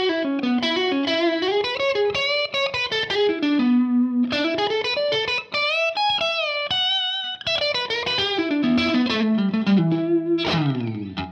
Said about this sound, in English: the middle position on a Strat can get you there